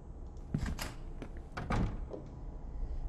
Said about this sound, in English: The door is locked.